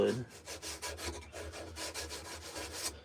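Rhythmic back-and-forth sanding of wood with sandpaper in a spoon-carving workshop, a rasping stroke repeated about four times per second, close and steady.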